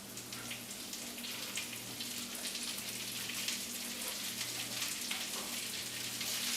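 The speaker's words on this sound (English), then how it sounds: "Let those cook down a little bit" Greens cook down in a pan with bacon, giving a soft, steady sizzle and patter close by, with a faint low hum running beneath.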